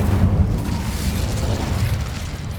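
Incendio fire spell cast in Hogwarts Legacy: a loud, rumbling whoosh of magical flame that booms at the start and keeps roaring steadily throughout, with no talking.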